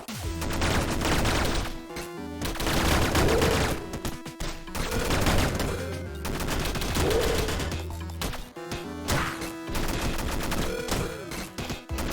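Machine gun fire in the pixel-art game Downwell comes as dense, loud rapid bursts in repeated waves over layered game music and effects, nearly continuous throughout.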